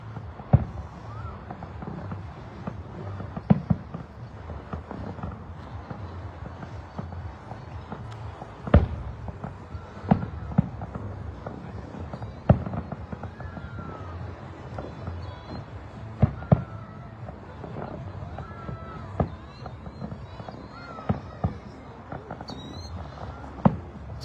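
Fireworks display at La Ronde on 27 June 2025: scattered sharp bangs and booms every few seconds, heard from a distance over a soft outdoor ambience.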